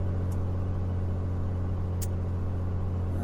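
A Cirrus SR-22 piston engine in a flight simulator holds a steady run-up near 1700 RPM, a constant low droning hum with no change in pitch, heard close and alone.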